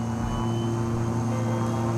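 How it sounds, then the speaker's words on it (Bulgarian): Air Illinois Flight 710, a propeller airliner, taking off from Capital Airport in Springfield, Illinois: a steady, loud engine drone with strong low tonal hum that holds unbroken and alone throughout. "Полет 710 на Air Illinois излита от летище Кепитъл в Спрингфилд, Илинойс."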